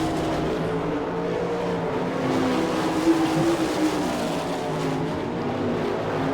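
410 sprint cars roar around a dirt track at Attica, Ohio during a season-opener race, a loud continuous engine drone with rising and falling pitch as cars pass, no talk heard.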